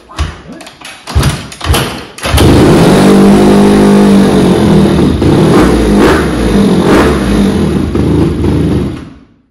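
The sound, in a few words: motorcycle engine running after kick start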